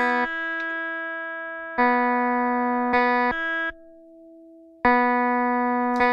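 Loop playback from an Echoplex Digital Pro looper using its insert function: sustained, bright, layered synth-like tones switch abruptly in blocks, with one quieter, thinner stretch before the full loop returns.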